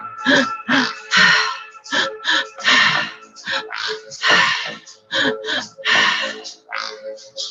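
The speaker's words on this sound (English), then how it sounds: "Keep breathing." Deep, forceful breaths during a breathwork practice, drawn in rapid, irregular bursts roughly every half second to second, close and loud, with gasping edges and no talk.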